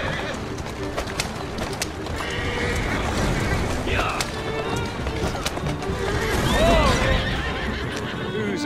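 A horse in Assassin's Creed Syndicate whinnies over clip-clopping hooves and a busy street ambience, with a person talking throughout.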